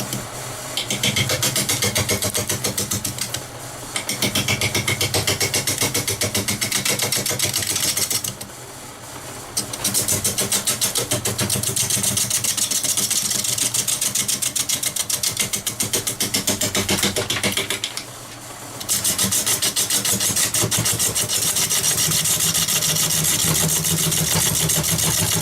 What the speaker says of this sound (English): The lathe is running right now 500 RPM.